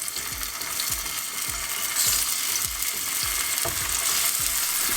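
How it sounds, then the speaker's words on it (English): Aubergine slices frying in a pan with a little oil, a steady bright sizzle running throughout with occasional soft stirring knocks and scrapes, close and fairly loud, no one talking. "add a little bit more oil to your pan and fry the remaining slices"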